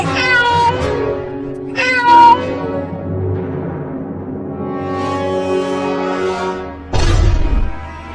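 A cartoon kitten meows in several loud, drawn-out, wavering calls, with a short sharp cry near the middle and a final burst at the end, set against a soft musical background.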